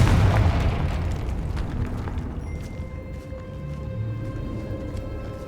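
A Confringo spell blast in Hogwarts Legacy bursts loudly at the start, then rumbles on with steady debris noise and a faint tonal hum as the game's effects trail away.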